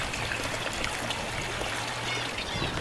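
Water streams steadily out of the air conditioner discharge outlet on a sailboat, a continuous close trickling gush with no speech.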